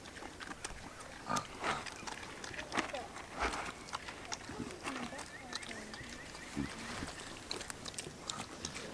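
Pigs grunt and snuffle in short bursts nearby, with scattered rustling and movement, and a person talks quietly in the background.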